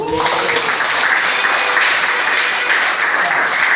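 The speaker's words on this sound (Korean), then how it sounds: "한톨 선생님 수고하셨다 박수 한번 주세요" Audience applause for Hantol at a book launch celebration, a dense, steady wash of clapping that holds at full level throughout without pause.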